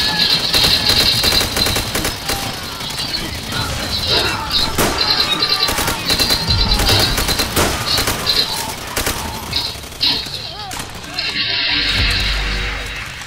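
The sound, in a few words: gunfire in Call of Duty video game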